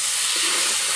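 A little water splashed into turmeric and chili powder spices frying in a hot pan, giving a loud, steady steamy hiss that fills the short moment without pause.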